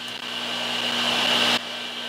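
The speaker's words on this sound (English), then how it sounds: "I'm going to turn on our heat gun." A heat gun blows steadily with a constant airy whoosh and a faint electrical hum, running close and evenly, then drops slightly in level near the end as if switched to a lower setting.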